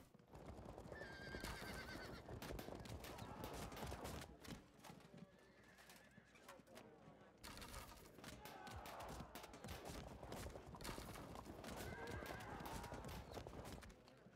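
Horses neigh and hooves clip-clop in Field of Glory II, mixed with sharp volleys of battle noise, bursts of gunfire-like cracks and several whinnies rising over a busy, loud soundscape.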